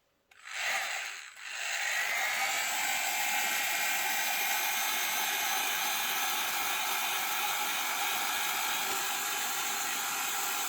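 A hair dryer blows warm air at less than full power: a short burst and pause, then a loud, steady whooshing roar that runs on unbroken.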